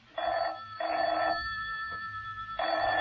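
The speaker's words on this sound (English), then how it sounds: "A short while after this, John Steed's telephone rang." A telephone rings in a radio drama, with three clear bell bursts separated by short pauses, heard close and alone without any voices.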